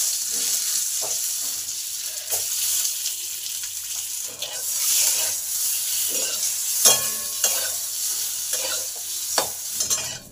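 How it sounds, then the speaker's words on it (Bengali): Eggs fry in hot oil with a continuous sizzle, broken by repeated clatter and scraping of a utensil against the pan, fairly close and without talk. "এই ডিমগুলোকে ভেজে নেব"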